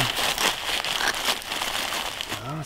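Paper being crumpled and crinkled by hand to start an outdoor campfire at a fish pond, a steady close rustle throughout with a brief voice near the end.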